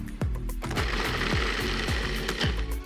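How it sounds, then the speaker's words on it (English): A food processor grinds cashews and dates in loud, continuous bursts, the blade chopping with a steady rattling churn and recurring knocking pulses from the nuts striking the bowl, with no talk. "So I like to start by just processing your cashews and your dates."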